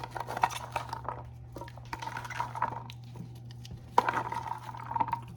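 Vegetables, including celery, are dropped and stirred into a pot of gravy with turkey necks, giving scattered clinks, scrapes and soft thuds against the pot over a low steady hum.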